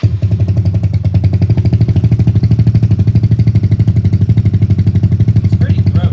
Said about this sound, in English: I got myself my little cannonball exhaust on here, which I think sounds relatively cool.